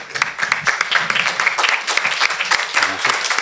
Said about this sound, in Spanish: Le damos un fuerte aplauso a los expositores.